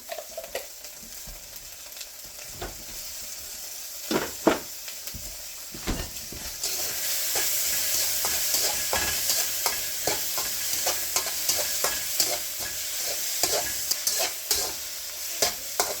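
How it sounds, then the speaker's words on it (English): Garlic fries in a pan for fried rice, a steady sizzle that grows louder and brighter midway, broken by repeated scraping and tapping of a spatula as it is stirred. "Adding in another spoon of garlic."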